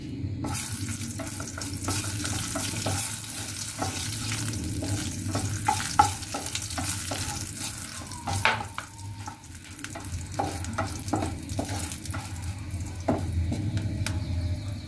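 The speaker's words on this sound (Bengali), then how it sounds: "ভর্তার জন্য কিছু শুকনো মরিচ ভেজে নিচ্ছি।" Dried chillies crackle and sizzle steadily in a hot pan, with occasional scraping and stirring clicks close by.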